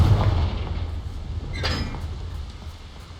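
A Confringo spell explosion in Hogwarts Legacy: a heavy low rumbling blast that opens loudly and fades, with a brighter crackling burst around the middle, heard alone without talk.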